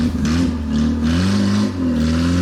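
A car engine revs hard and loud with rising and falling pitch as the car strains to climb onto a car trailer, close by, with no voices.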